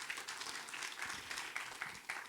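A church congregation applauds during a sermon, a fairly faint, steady wash of many hands clapping with no one speaking over it.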